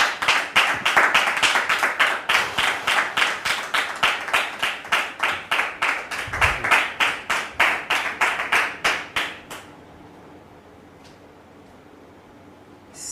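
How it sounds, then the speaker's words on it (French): An audience claps in a fast, steady, rhythmic beat to welcome a guest onto a stage. The applause is loud and close for about ten seconds, then stops abruptly, leaving quiet room tone. "Très cher public, merci de le recevoir sous vos applaudissements."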